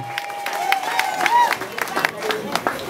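A crowd in Kikwit applauds a radio technician at the launch of a new FM station. Scattered claps are heard beneath a voice that talks over them throughout.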